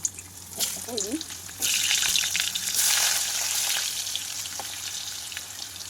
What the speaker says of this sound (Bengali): আগে আলুগুলো ভেজে নিচ্ছি